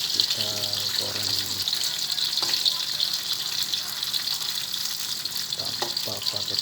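Jackfruit, fried in oil without flour, sizzles with a continuous bright hiss, joined by occasional stirring clatter and a brief low hum early on.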